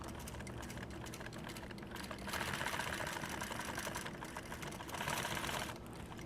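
A sewing machine stitching through resin-stiffened nylon scuba webbing while building tactical gear, a fast steady mechanical whir that swells louder in two bursts, with no talking.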